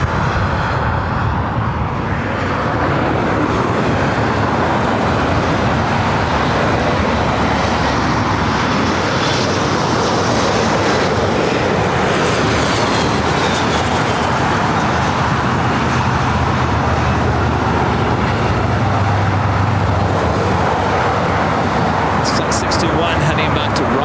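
An Airbus A330neo jet roars on takeoff at LAX, a broad sustained engine rumble that holds steady throughout, close and loud, with a brief radio voice at the start.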